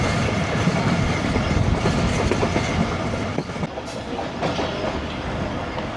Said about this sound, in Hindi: दोस्तों ये थी 13 अब अवाम एक्सप्रेस, जो कि 5:09 पे हमें मिली टंडो मस्ती खान रेलवे स्टेशन के पास